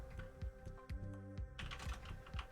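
Rapid typing on a computer keyboard set to a Dvorak layout, with quick irregular clusters of crisp key clicks at close range, fairly quiet, with no talking.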